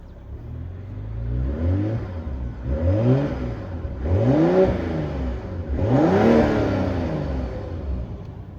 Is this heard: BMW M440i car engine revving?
yes